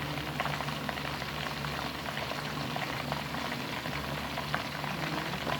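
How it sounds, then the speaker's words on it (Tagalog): A whole chicken on its first fry in hot oil, bubbling and sizzling in a dense, steady crackle close by, with no one talking. "Antayin lang natin na mag-golden brown din yung kabilang side ng ating chicken. Ayan na siya. Ayan yung first fry natin."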